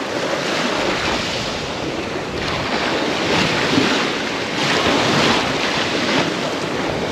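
Stormy sea surf breaking on a warm, clear-water Crimean beach, with a steady loud wash of waves and wind swelling in repeated surges, no voices.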